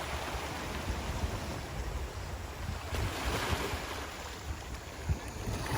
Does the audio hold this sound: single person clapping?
no